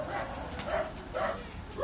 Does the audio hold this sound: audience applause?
no